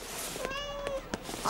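A cartoon cat in a Titeuf episode gives a single rising, tonal meow near the middle, fairly clear over faint background noise with no talk.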